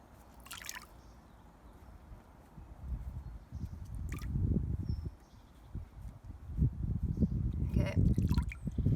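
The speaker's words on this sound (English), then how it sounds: "you get your other piece of mesh and you lay it on top. And then you start to squeeze out as much water as you can." Wet paper pulp pressed between two pieces of mesh, water squelching and dripping out in soft wet bursts and trickles, close and quiet, with a few faint clicks around the squeezing.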